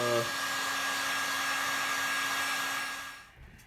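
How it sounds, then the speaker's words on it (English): Heat gun blowing hot air onto boots being shined, a steady close whirring roar with a faint tonal whine that cuts off near the end. "I'm gonna take the heat gun to it, toss it off, let it dry, let it cool down"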